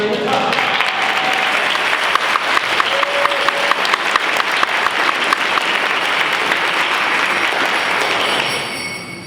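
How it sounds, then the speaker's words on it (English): Audience applause at a Tuba Christmas concert held in a Lutheran church in Duluth, Minnesota: a large, dense, steady roar of clapping that fills the room for about eight seconds, then begins to fade. "And also to all of the performers, a round of applause."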